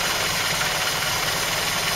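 A Land Rover Series engine, converted to an SU carburettor, idles steadily nearby with a dense, even rumble and no talking.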